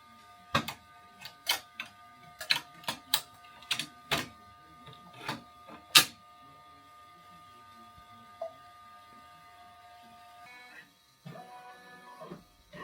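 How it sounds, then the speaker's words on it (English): An embroidery machine stitching a side bow applique onto a sweatshirt, giving a run of sharp mechanical clicks and ticks in uneven bursts, then a steady hum and a few rattling movements near the end, close by. "I'm going to put this on the embroidery machine."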